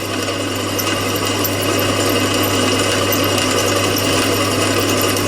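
Power drill running steadily while drilling out a broken bolt, its belt run loose so it can stall if the bit grabs; a continuous loud mechanical whir with hum and grinding texture, no pauses, no speech.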